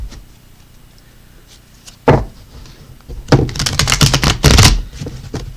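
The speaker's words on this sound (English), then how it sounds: "Let's pull some tarot cards for you." Tarot cards being shuffled and pulled from a deck: a quiet start, one sharp flick near two seconds, then a dense run of riffling, slapping card sounds building to the loudest burst before settling.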